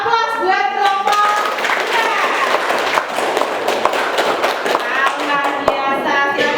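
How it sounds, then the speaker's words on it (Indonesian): Classroom applause for a student group, a steady burst of many hands clapping with children's voices chattering over it, a teacher speaking at the start and end. "Aplaus buat kelompok"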